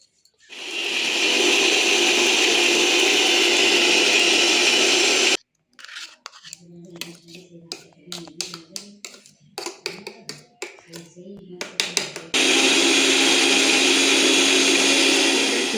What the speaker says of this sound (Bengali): আমার মিক্সিতে দেওয়া হয়ে গেছে এবার দেব ঢাকনাটা লাগিয়ে তারপর এটা পেস্ট করব